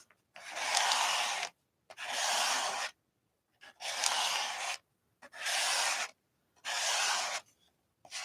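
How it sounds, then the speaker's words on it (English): Five long rasping scrapes of a tool dragging thin craft paint across an art surface, each about a second long with short silent gaps between them, close and steady with no talk. "we're just going to scrape it down"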